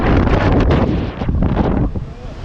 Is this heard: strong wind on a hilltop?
yes